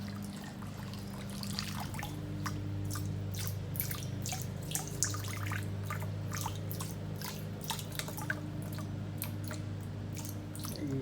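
Fuel from a 1968 Mustang's gas tank drain drips and trickles in a quiet, irregular patter of close drops over a low background hum.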